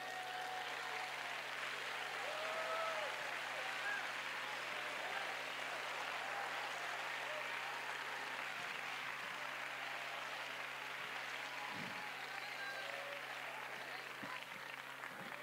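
A church congregation claps and stomps during a worship service, a faint, continuous wash of hand claps with occasional thumps, with a preacher's voice faintly over it.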